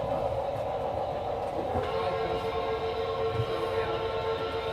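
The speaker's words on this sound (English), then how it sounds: "All right, I'll leave it recording because your train's going to come by." A model train on a layout with Digitrax DCC control rolls past near a railroad crossing, giving a steady, even rumble with faint humming tones that holds at a constant moderate level throughout.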